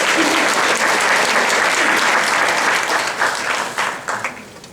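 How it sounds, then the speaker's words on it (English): A festival audience applauds the talent at a post-screening Q&A, a loud, full round of clapping that holds strong before thinning and tapering off near the end. "Quick round of applause for our talent."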